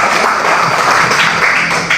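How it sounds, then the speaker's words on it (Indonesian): Audience applause at a BKKBN campus event at Universitas Mbojo Bima: steady, dense clapping from a crowd, close and loud, continuing unbroken throughout. "Tepuk tangan untuk kita semua."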